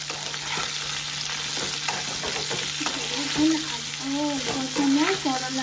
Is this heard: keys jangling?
no